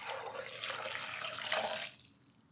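Water pours steadily into a blender for a fruit smoothie, a bright continuous splashing stream for about two seconds before it cuts off, close and alone with no talking.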